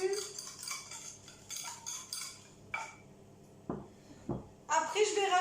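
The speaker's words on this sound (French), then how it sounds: "Après, on rajoute 100 g de sucre. Et on remue, on remue, on remue." Spoon or utensil clinking against a bowl while sugar is stirred into a mixture, with a few scattered scrapes and taps, mostly beneath someone speaking French in a kitchen.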